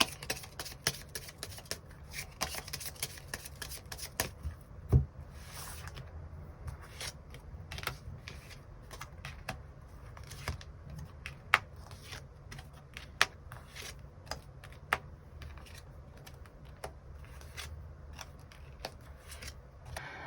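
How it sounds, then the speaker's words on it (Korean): Quiet tarot cards being shuffled before a draw, with soft repeated riffling and sharp little clicks and snaps scattered irregularly over a faint hiss, no voices. "카드 뽑아보도록 하겠습니다."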